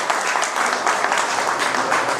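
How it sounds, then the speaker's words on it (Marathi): Loud, dense clapping from a reunion crowd honouring a former teacher at a school get-together, a continuous wash of applause for the full length. "वायकर सर आपल्याला जोरदार टाळ्या झाल्या पाहिजे सरांसाठी"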